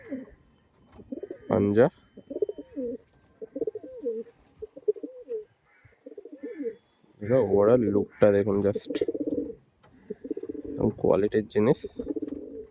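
Small Andhra Kalank, Tatira and Gola line breed pigeons coo in short repeated throaty bursts close by, mixed with someone talking between and over the calls.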